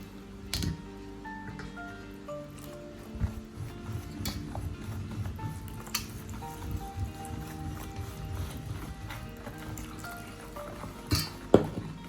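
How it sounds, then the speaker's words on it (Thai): Hot water pours and drips into a bowl of chocolate cupcake batter with small splashes and clinks, quiet and close, over faint background tones. "เราก็จะเติมน้ำร้อนลงไปค่ะ"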